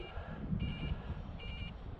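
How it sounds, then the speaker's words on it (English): An RC transmitter's flight timer going off for a small Eflite UMX F-86 Sabre electric jet, two short bursts of rapid high beeps over faint background rumble outdoors. "Timer's going off, you can tell."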